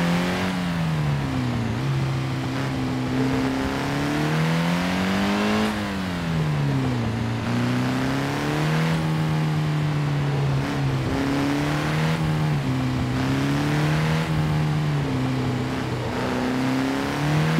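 Engine of a car revving continuously as it drives a track in the racing game Assetto Corsa, pitch rising and falling through the gears, loud and steady throughout with no talk.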